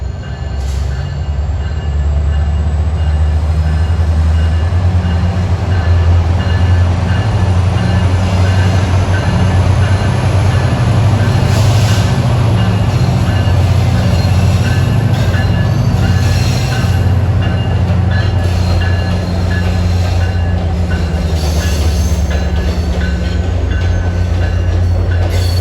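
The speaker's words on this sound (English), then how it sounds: "this is train 544, this goes far, all the way up to Perryville," Passenger train 544 to Perryville, Maryland rolls past near and loud for a long stretch, its heavy rumble steady throughout, with wheel squeal and clicking joints over the top.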